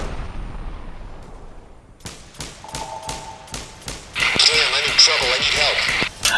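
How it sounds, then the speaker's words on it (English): In a PvP video game, sharp gunshots crack out in a quick irregular series, then a louder missile attack bursts in with a harsh sustained roar and a tonal whine that runs to the end. "Warning. Incoming missile."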